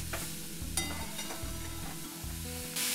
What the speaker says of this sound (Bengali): গুড় আর নারকেল একসঙ্গে ভেজে নিলাম।